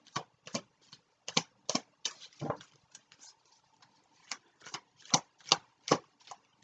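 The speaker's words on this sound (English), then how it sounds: "I have grabbed another deck and I'm shuffling here to get some more energy for you guys." Deck of tarot cards shuffled by hand in a quiet room, a series of sharp riffling bursts with short pauses between, close and crisp with no talking over it.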